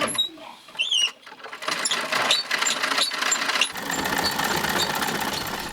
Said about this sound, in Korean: 오래된 재봉틀로 이 금식 씨는 버려진 옷들을 살려냅니다.